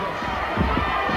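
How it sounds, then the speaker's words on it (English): A ringside wrestling crowd at a Von Erichs match roars in a short, steady swell of excited cheering. "The crowd roaring with excitement."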